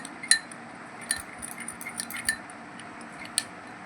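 Spoon clinking against a bowl while yogurt and lemon juice are stirred together, a few bright, light metallic taps spaced irregularly over a quiet background.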